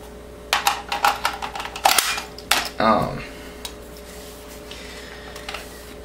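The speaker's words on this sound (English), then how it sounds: "you grab the magazine, and you use your thumb, push up the lever, and pull it out" Magazine being removed from a Thompson 1927A1 submachine gun, heard as a quick string of close metallic clicks and rattles followed by a sharp snap and a scraping slide as the magazine comes free.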